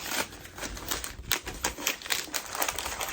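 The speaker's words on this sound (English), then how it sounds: "So let's go ahead and unwrap it." A wrapped book has its paper wrapping torn and crinkled off up close, a busy stretch of rustling and ripping with no talk.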